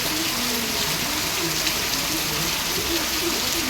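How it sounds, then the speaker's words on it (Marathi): Rain pouring steadily outdoors during a monsoon spell, a dense, even hiss of drops on surfaces that stays constant throughout with faint voices underneath. "पाऊस पडतोय"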